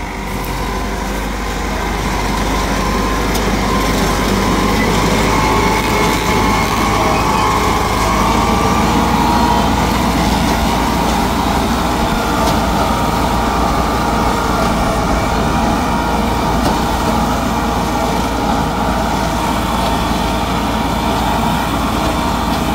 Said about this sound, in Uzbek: Mana TTZ traktorimiz uryapti.